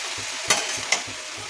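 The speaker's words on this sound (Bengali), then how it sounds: "কপির ওপরে জিরে গুঁড়ো ছড়িয়ে দেবো, দিয়ে এবার ভালো করে এদিক ওদিক করে নেড়ে ঢাকা লাগিয়ে দেবো" Cabbage with fish head and cumin powder is stirred in a hot pan, giving a steady close sizzle broken by two sharper scraping strokes of the spoon, with no voices.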